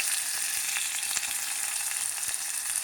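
Onions and chillies fry in a pan for a broccoli curry, a continuous close hiss of oil with faint crackles and no pauses.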